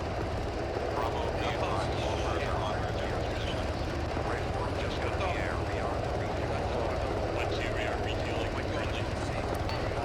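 A video game helicopter in flight produces a loud, continuous rotor and engine roar throughout, with occasional higher chirps and radio voices mixed beneath the steady noise.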